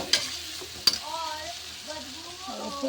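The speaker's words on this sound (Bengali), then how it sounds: "তো এবার আমি জল দিয়ে দেবো" Water poured into hot oil in a wok while fish curry is cooked brings a steady sizzle, with two sharp crackling bursts near the start and faint talk underneath.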